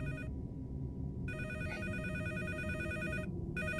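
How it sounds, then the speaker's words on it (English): A telephone rings in the horror survival game Case Animatronics 2, with repeated electronic trilling bursts separated by short pauses over a low droning background, fairly faint and with no talking. "There's the phone ringing."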